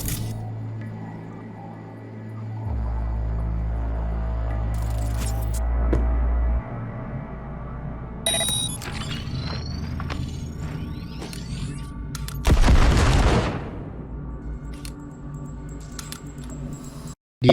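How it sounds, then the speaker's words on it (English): A grenade detonates in Cyberpunk 2077, a single loud broadband blast near the end, rising above steady mechanical game sounds and scattered clicks. "Now, detonate the grenade."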